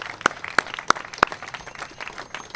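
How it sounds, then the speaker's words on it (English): Outdoors at a memorial bike ride in Brooklyn, four sharp, evenly spaced claps ring out near, followed by softer, scattered clapping from a crowd further off. "can I just give everyone a round of applause who came out on a Sunday to do this"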